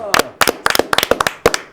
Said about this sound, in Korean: 저희들이 먼저 여러분들께 박수 보내드리겠습니다